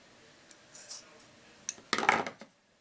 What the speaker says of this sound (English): Cut off that frayed edge.